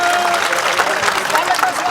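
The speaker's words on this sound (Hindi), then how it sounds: "जोरदार तालियां।" A crowd at a Sonar community gathering breaks into a brief burst of clapping, a thick, continuous rattle of many hands with a voice heard faintly alongside.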